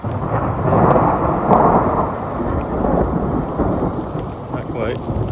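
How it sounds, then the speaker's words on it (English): A September thunderstorm in the Sawtooth Wilderness of Idaho brings loud, dense rain hissing through the trees, with deep rolling thunder rumbling close by and slowly easing off. "hoping the thunder and lightning keep moving away"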